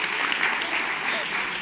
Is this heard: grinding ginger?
no